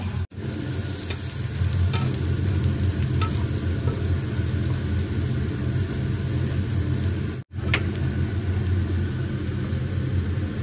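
Buttered garlic beef seasoned with salt, pepper and tomato ketchup fries in a pan, a loud continuous close sizzle with a low rumble underneath and two brief cut-outs.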